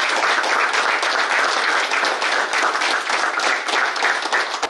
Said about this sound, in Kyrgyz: ар бириңер жаныңарда ушул агайларыбызга бир кол чаап коелу